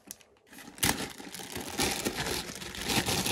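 Tape is peeled off the packaging of a large Dreadnoughtus dinosaur toy, heard close up as a sudden rip followed by continuous crackling, crinkling plastic and paper noise with no talking.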